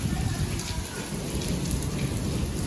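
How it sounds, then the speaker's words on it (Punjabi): Heavy rain pours steadily in a strong storm over farmland, a dense, loud, unbroken hiss close by with no pauses, and no voices. "ਥੋੜੀ ਹਵਾ ਘਟੀ ਆ ਵੈਸੇ ਕਿਨੋਂ ਪਰ ਮੀਂਹ ਬਹੁਤ ਤੇਜ਼ ਆ"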